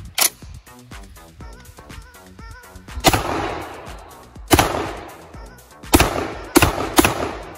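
An AR-style 12 gauge Rock Island Armory shotgun fires Fiocchi Field & Stream 1 1/8 ounce BB shot loads, starting with a sharp blast and then a series of loud, close booms spaced about a second apart, each trailing a rough echo.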